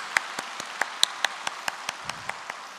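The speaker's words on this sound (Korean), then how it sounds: "우리 부활하신 주님을 위해서 영광의 박수를 보내드리겠습니다" Church congregation clapping in praise for the risen Lord after a sermon, heard as a steady series of sharp, evenly spaced claps, loud and close, with no talk over them.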